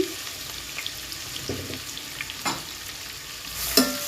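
Onion hits a hot pan for fried rice, giving a close sizzle with a few scraping stirs and a sharper burst near the end.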